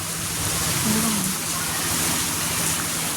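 Heavy rain pouring down steadily behind a shop, a dense close hiss of drops on surfaces throughout with no clear voices.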